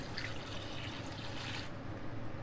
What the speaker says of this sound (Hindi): पानी डालना है